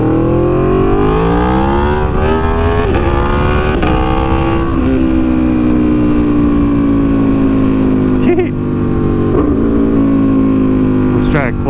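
An Aprilia Tuono V4 Factory motorcycle engine revs hard and close as the rider accelerates through gears during a wheelie attempt, its pitch climbing and dropping with each shift under steady wind roar.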